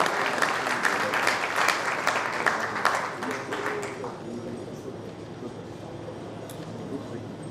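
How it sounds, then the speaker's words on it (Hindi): Audience applause fills a hall at an education pre-summit in Rajasthan, steady crowded clapping for about four seconds that then fades to a low murmur of room noise. "जोरदार तालियां हो जाएं उनके लिए"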